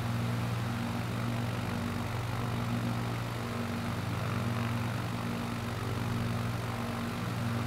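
A small propeller plane's engine in level flight at about 4,000 RPM drones steadily and loudly throughout, with a constant low hum and no voices.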